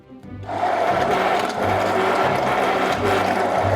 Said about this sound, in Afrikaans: as jy nou hierdie hand-elektriese menger gaan gebruik en jy druk hom in en jy begin hom aan te sit